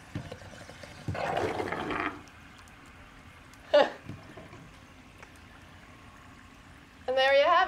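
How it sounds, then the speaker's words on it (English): Dry ice dropped into water, bubbling and fizzing in two short gurgling bursts with a brief splash between them and a louder hiss at the end, heard close. "And there you have it, some dry ice bubbles."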